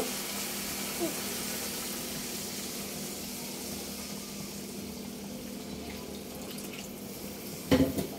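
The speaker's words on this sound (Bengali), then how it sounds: "এটার মধ্যে পানি দিয়ে দিব।" Water pours steadily into a pan of pangas fish and masala with a continuous splashing hiss, ending in a brief metallic clatter.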